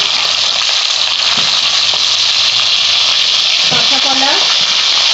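Potatoes frying in a pan of oil for Bengali shukto give a loud, steady, close sizzle with a brief stir or scrape partway through.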